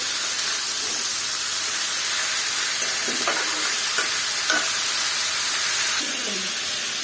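Bitter gourd slices frying with lightly cooked onions in a pan, a steady close sizzle and hiss with a few scraping stirs breaking through.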